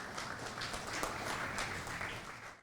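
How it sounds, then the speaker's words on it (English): An audience applauds a guest being welcomed on stage, steady, fairly faint clapping from a crowd that holds evenly before cutting off. "Please, a big round of applause, guys."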